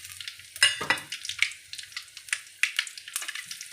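Mustard seeds sizzle and crackle in hot oil in a kadai, with sharp pops and spits, small seeds bursting irregularly close by, no talking.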